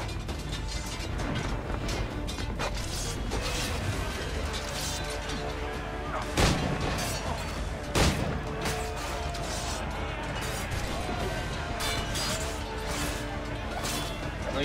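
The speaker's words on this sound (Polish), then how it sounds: "Jaki wybuch poszedł." Explosions and crashes in the pirate naval-combat game Assassin's Creed IV Black Flag during a ship battle, amid a dense, continuous din of mechanical clatter, with two sharper blasts standing out.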